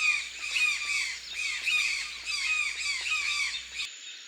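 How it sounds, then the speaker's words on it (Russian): Toucans calling in the Amazon rainforest, a series of harsh, repeated squawking croaks in a steady rhythm, fairly close and loud, with no voices over them. "Это туканы."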